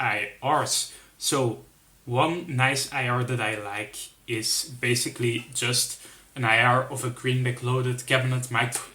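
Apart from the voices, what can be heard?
No everyday noises stand out.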